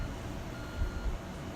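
A truck reversing in Construction Simulator 2 gives a quiet, steady backup beep under low engine rumble for a brief moment, faint and without talk.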